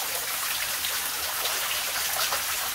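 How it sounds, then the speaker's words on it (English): Water dripping and pouring inside an underground gold mine, a dense continuous patter of drops falling onto surfaces, steady and fairly close, with no voices over it. "Normally there wasn't any dripping going on except for one little section up there. And that section up there is a torrent."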